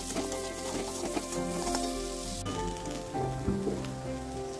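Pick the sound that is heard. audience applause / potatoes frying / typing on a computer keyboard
potatoes frying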